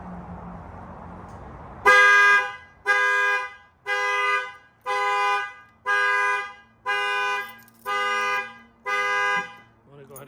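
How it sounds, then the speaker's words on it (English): The tailgate alarm on a Chevy Colorado goes off in eight even, loud horn blasts about a second apart, each a bright steady tone, after a short stretch of quiet rustling. "I'm gonna drop it down a little bit so you can see how the alarm is gonna fire off."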